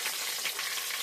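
Chopped onions frying in oil for desi palav, a close, steady sizzle with faint crackles and stirring, no voices.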